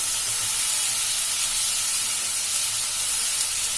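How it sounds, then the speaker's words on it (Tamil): Tomato and green chilli sizzle steadily in hot oil for an egg pepper masala, giving a close, continuous bright hiss with faint crackles. "தக்காளி வந்து எண்ணெயில் நல்லா வதங்கி வரட்டும்"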